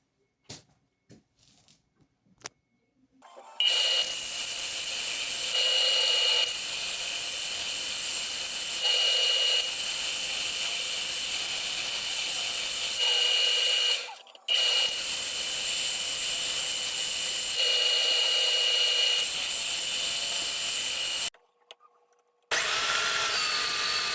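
A power drill with a 9/64 inch bit whines steadily in long bursts while drilling holes in zebrawood for a knife handle, stopping briefly between holes, loud and close, with no talking.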